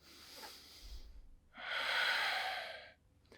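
Breathing during a twisting yoga flow: a soft inhale, then a longer, louder, airy exhale through the nose or mouth, close and alone.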